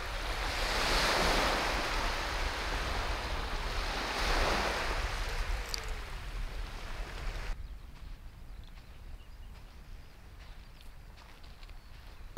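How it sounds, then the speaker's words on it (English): Ocean surf rolling onto a pebbly beach at Stinky Haven as the tide comes in, a steady loud wash of breaking waves with wind buffeting the microphone, easing to a softer, more distant hiss in the final seconds. "Oh, watch yourself, the tide's coming in."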